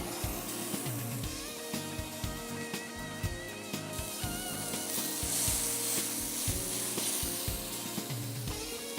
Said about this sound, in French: Donc voilà, je vais poêler ce steak.